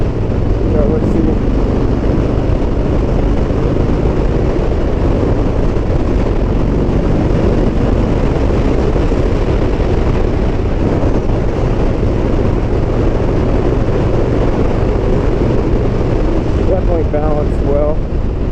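A Harley-Davidson Street Bob with the M8 engine on the move: a loud, steady engine drone mixed with constant wind rush for the whole stretch, close to the microphone and with no breaks.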